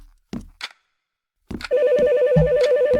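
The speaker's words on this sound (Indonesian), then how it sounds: "Oke, ada telepon lagi." Telephone ringing in a horror video game set in a hospital night shift: after a few soft thuds, a steady electronic trilling ring starts and continues, close and clear.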